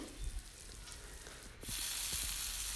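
Spice paste (masala) fries in a pan with a faint crackle at first, then bursts into a loud, steady sizzling hiss that continues up close to the end.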